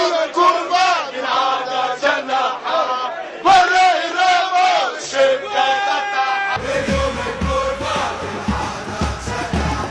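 Espérance de Tunis football fans sing a chant named after striker Michael Eneramo, a loud mass of voices that is rhythmic and pulsing, shifting partway through into a denser, noisier roar.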